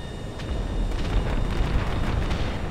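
Bombs dropped from a huge bomber plane in GTA 5 explode in a steady, loud, rumbling roar of overlapping blasts that lasts throughout.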